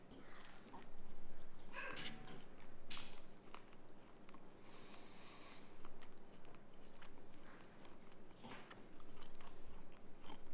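Crunchy chewing of air-fried fish with crispy breading, a few close, quiet bites and crunches at an irregular pace against a faint background.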